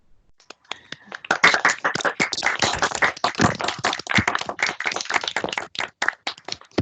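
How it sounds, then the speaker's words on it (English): A handful of participants in an online meeting clap after unmuting, producing sparse, uneven claps that build into a brief ragged round of applause, close and dry, without talk. "I wonder if everyone would like to take themselves off mute and give Dave a round of applause for that"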